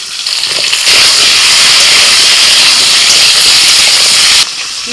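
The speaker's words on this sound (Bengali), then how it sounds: "এবার কচু আর আলু ভেজে নিচ্ছি।" Taro and potato pieces fry in mustard-oil-style hot oil in a pan, a loud, steady sizzling hiss that starts abruptly, holds for several seconds, then drops back to a quieter crackle.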